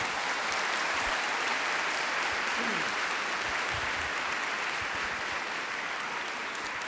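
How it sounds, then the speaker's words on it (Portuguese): Large church congregation applauding after a scripture reading, a dense, steady wash of clapping from a big crowd that holds at even loudness throughout. "Pode aplaudir a palavra."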